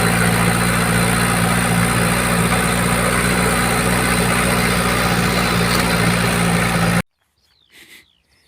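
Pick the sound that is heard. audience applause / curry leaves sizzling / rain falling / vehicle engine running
vehicle engine running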